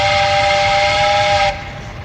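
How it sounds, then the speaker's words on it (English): A steam train whistle blows a loud, sustained, chord-like tone, held steadily for about a second and a half before dropping away sharply. "That's a train,"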